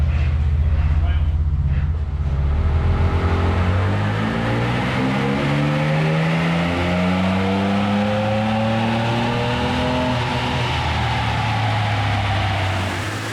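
Ford Ranger Raptor pickup engine on a dyno, loud and close, holding a steady drone before climbing in a long continuous rev that rises in pitch and then eases off, with no talk over it.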